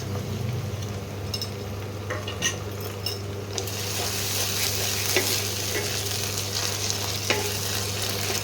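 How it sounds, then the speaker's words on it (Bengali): Onions and ginger-garlic paste fry in a pan for a Bengali coriander chicken dish, giving a steady, close sizzle throughout with occasional light clicks of stirring. "এটাকে পেঁয়াজটাকে প্রথমে ভেজে নিচ্ছি, লাল করে পেঁয়াজগুলো দেখো ভেজে নিয়েছি।"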